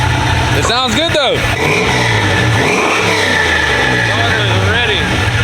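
Lifted 2024 Chevy truck with an aftermarket cam, its engine revving in sharp rising and falling blips over a loud lumpy idle, with people talking nearby.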